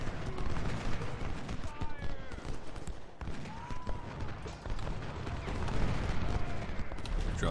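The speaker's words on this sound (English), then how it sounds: "Alright, we've got to get these 24 pounders going." In the video game Ultimate General Civil War, 24-pounder cannons and musketry fire across a battlefield. The dull booms and crackling shots come in a constant irregular din, with voices mixed into the noise.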